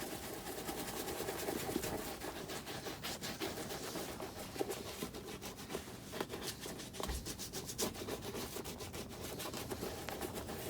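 Conditioner is worked into a leather boot by hand, a continuous soft rubbing and scuffing with quick repetitive strokes, close and fairly quiet, no talking.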